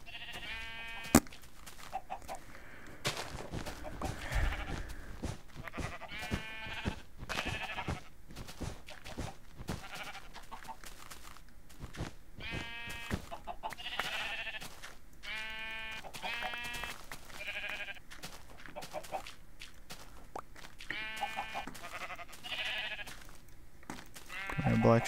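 Sheep bleat repeatedly in Minecraft, a series of close, wavering bleats scattered across a busy farm scene over faint background clatter.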